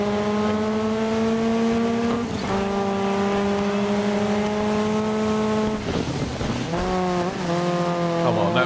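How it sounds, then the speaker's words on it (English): A rally car drifting in DiRT 5, its engine holding a loud, steady tonal whine that dips and shifts pitch as the car slides, close and continuous throughout. "Come on, that was a drift, surely."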